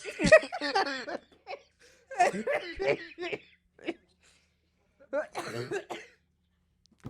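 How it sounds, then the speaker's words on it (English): Several bouts of harsh, repeated coughing come in clusters with quiet gaps between, close and fairly loud, mixed with a little laughter. "before I die from coughing"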